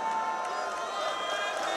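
Arena crowd at a Counter-Strike PGL Major semi-final in Krakow, Gambit versus Astralis, giving a steady roar with scattered shouts rising out of the dense, continuous wash of voices.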